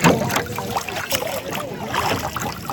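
A rowing boat moves across Madan lake, with soft water splashes and sloshing beneath a steady outdoor hiss, and voices murmur faintly in the background.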